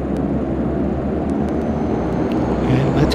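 An aircraft rolls for departure from the runway in Microsoft Flight Simulator X at night, a steady droning engine roar with a low rumble holding even throughout.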